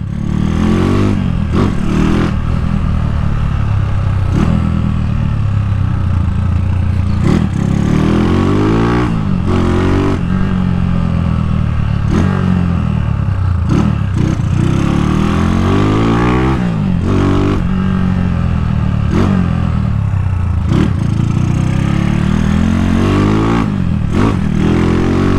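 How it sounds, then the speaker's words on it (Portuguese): A Honda Titan motorcycle engine idles and revs close by, loud and steady, with repeated rising and falling throttle blips over a rough mechanical clatter. "Que moto gostosa, mano."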